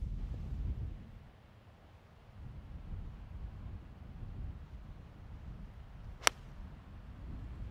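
A golf ball struck with a 7-iron on a windy course gives one crisp, sharp click partway through, heard alone against steady wind buffeting on the microphone.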